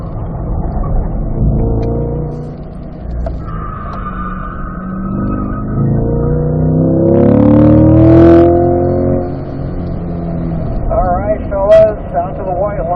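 A race car engine drones steadily through a track session, revving and braking into a turn, with someone talking over it throughout.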